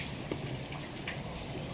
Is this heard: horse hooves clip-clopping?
no